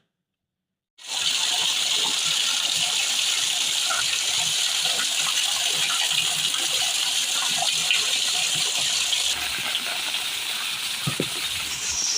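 Floodwater gushing during heavy rains in Telangana, a loud, steady broadband rush of water that starts abruptly and continues unbroken and close for the rest of the clip, with no speech.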